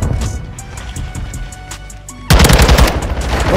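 Rapid automatic gunfire in Call of Duty Modern Warfare 2 Search and Destroy, a light, distant patter of shots that suddenly gives way to a loud, dense, close burst of rattling fire.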